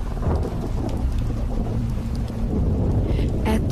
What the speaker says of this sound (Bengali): এত জোরে জোরে বাজ পড়ছে যে কানে তালা লেগে যাওয়ার উপক্রম।